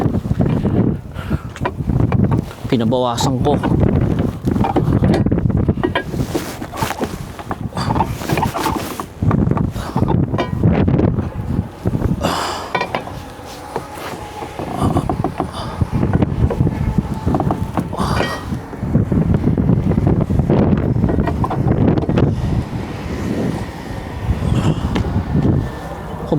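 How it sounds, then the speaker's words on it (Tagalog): Strong wind roars and buffets the microphone continuously, with a brief spoken voice partly buried in the gusts. "Mahangin, mga kapatid."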